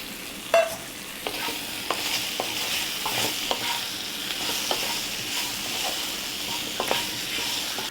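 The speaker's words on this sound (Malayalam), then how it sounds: "ഇതിൻ്റെ പച്ചമണം മാറുമ്പോൾ കപ്പ ചേർത്ത് ഇളക്കാം." Chunks of tapioca being stirred into a masala frying in a pan, with a steady sizzle and repeated spoon scrapes and clinks against the metal, close and fairly loud throughout, no voices.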